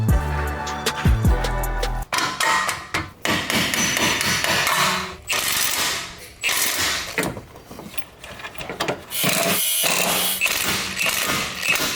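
Bolts being tightened onto the strut top hats of a 2021 Hyundai Veloster N during a lowering job, with a rapid ratcheting rattle at first followed by repeated clanks, taps and mechanical clatter close by.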